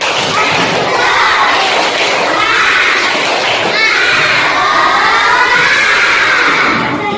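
A class of schoolchildren performs a rhythmic cheer clap together, loud and close, with their voices shouting and chanting over the patterned claps throughout.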